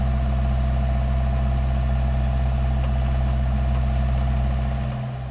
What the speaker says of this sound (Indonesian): peti jenazah yang akan dimasukkan ke dalam liang lahat diangkat oleh mesin ekskavator